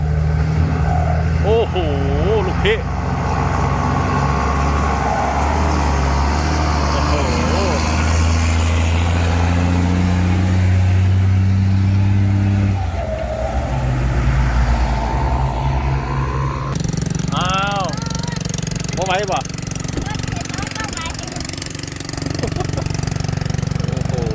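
A trailer truck engine idles and revs close by on a hill, with a rising turbo whine over the rumble, while people talk over it.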